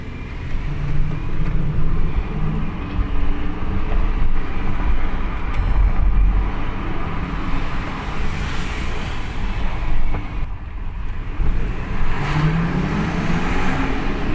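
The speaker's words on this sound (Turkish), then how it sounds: "anında 6000 devire kadar yükseliyor arkadaşlar" A Porsche Cayenne engine revs up to around 6000 rpm, producing a loud, steady roar that swells and holds. There is no talking.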